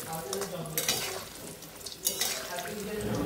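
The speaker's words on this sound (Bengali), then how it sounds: "তারপর তেলের উপর ছেড়ে দিয়েছি, হালকা তেলের উপরে, বেশি গরম তেল নয়।" Gaja, a Bengali sweet, frying in moderately warm oil, giving a steady close sizzle with a few stirring or scraping sounds, without speech.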